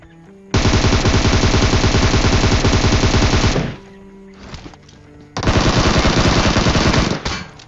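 Video game firefight while rushing an enemy team: a loud sustained burst of rapid automatic gunfire, a pause with a few faint shots, then a second long rattling burst.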